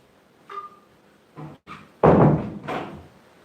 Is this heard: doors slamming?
yes